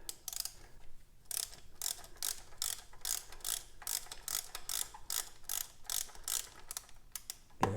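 A hand ratchet clicks in quick bursts while tightening a spark plug on a Honda Element during a tune-up, close and fairly quiet, with short pauses between strokes.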